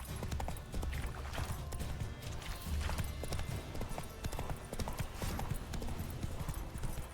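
Horse hooves clip-clopping in The Witcher 3 video game, a steady rapid trotting rhythm, fairly close and continuous, with faint game ambience underneath.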